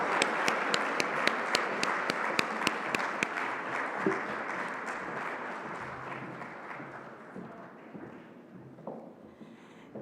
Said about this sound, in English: You're actually supposed to keep the applause going until she arrives at the microphone.